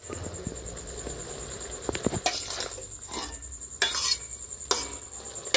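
Small fish cooking with water lily stems in a pan are stirred with a utensil, giving scraping clinks and bursts of sizzling over a low bubbling simmer and a steady high whine.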